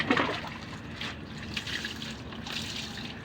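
Water splashes and trickles in a steady stream while animals are bathed, with soft running and pouring sounds continuing close by through the whole moment.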